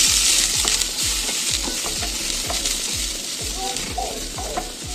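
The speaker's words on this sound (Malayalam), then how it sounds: "ആദ്യം ഞാൻ ചേർക്കുന്നത് സവോളയാണ്. അതിനെ ഇളക്കി കൊടുക്കാം." Sliced onions sizzle in a hot frying pan while a spoon stirs them for egg curry, giving a steady crackling hiss cut by regular scraping strokes of about two per second, close and fairly loud.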